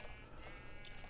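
Sheep bleating in Minecraft, a single short game-sound bleat heard faintly over a dense, hissy background.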